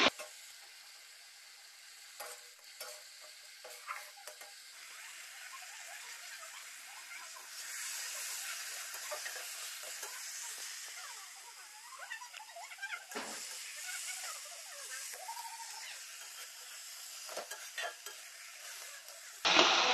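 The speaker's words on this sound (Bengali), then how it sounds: "আর এখানে মাছের তেল ভাজা করছি" Fish frying in oil in a pan during home cooking, giving a steady, fairly quiet sizzle and crackle that runs throughout, with scattered small pops and occasional utensil clinks.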